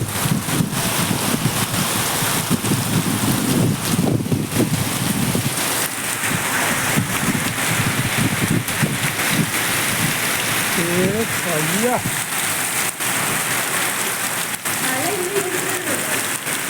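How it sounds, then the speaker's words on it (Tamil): Heavy rain pours with a dense, constant hiss as strong wind gusts roar through, loud and close, in the Salem area of Tamil Nadu; a voice calls out briefly under the downpour. "இது மழை காத்துங்க"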